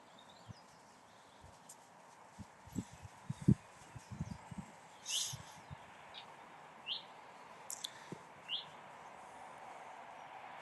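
Birds chirp in short, bright bursts at intervals, faint to moderate against a soft background hiss, with occasional low knocks and rustles nearby.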